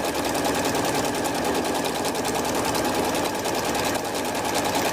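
A sewing machine stitches handles for a fabric tote bag, running continuously at a steady fast rhythm, close and loud throughout with no pauses.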